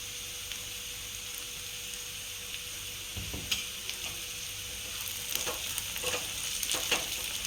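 Kudya flower greens sizzle softly in a frying pan with turmeric, coriander, lemon and salt, a steady hiss broken by light scraping stirs that grow more frequent toward the end.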